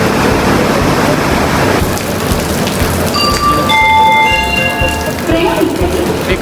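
Water pours heavily onto a train passing beneath a waterfall near Jog Falls in Shivamogga. It makes a loud, steady rain-like rush that eases after a couple of seconds as voices and thin tones rise over the remaining wash.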